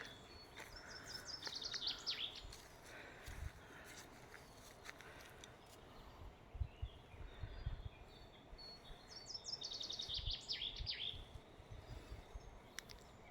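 Birds sing in a spring forest, faint and distant, with two bursts of bright trilling song and scattered chirps over a quiet background of insects, plus a few soft footstep-like thumps.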